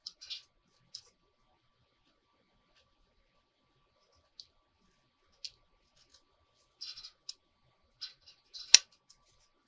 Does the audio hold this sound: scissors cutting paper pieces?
yes